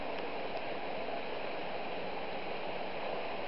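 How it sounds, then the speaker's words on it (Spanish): River water rushes steadily under a bridge, a dense, even broadband roar that stays constant throughout with no voices. "Escuchen el sonido del agua, qué rico suena eso."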